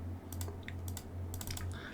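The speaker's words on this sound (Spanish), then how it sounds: "Le damos a doble clic" Computer mouse clicking at a desk during a circuit simulation, a run of sharp, close clicks scattered over a steady low electrical hum, with no voices.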